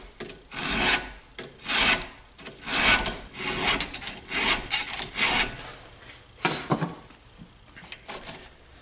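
A chainsaw's teeth are filed by hand at a 30-degree angle using a file guide, giving repeated rasping strokes in a steady rhythm, close and fairly loud, with brief pauses between strokes.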